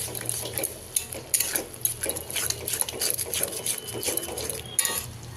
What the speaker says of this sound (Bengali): দইটা দিয়ে ভালো করে মশলাটাকে ততক্ষণ নাড়বো যতক্ষণ না মশলা থেকে তেল ছেড়ে আসে।